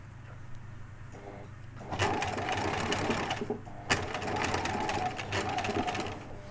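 A sewing machine runs in two close, steady bursts while stitching a seam on a felt hat, its rapid needle chatter continuous and fairly loud, with a brief pause between the runs and a low hum underneath.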